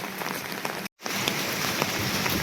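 Steady rain falls in Goa, a dense hiss of drops on surfaces broken by a brief dropout of near silence before the downpour resumes just as loud.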